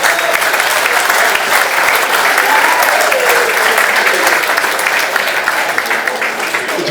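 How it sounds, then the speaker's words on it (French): Loud, dense applause from a large crowd at a French rugby club event, a continuous close roar of clapping sustained evenly throughout with faint voices beneath. "Donc, je pense qu'on peut vraiment l'applaudir"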